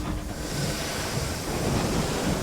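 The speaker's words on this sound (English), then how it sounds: "The winds claw your engine." Howling wind in the game Sunless Skies, a dense, roaring rush of air like gusts over open water, loud and steady throughout with no breaks and no voices.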